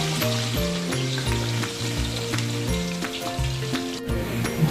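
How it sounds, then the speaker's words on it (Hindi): Onions frying in hot oil for chicken pilaf, a steady dense sizzle and crackle with some stirring, loud and continuous with no talking. "तेल हमारा गर्म हो चुका है, इसलिए हम प्याज शामिल करेंगे।"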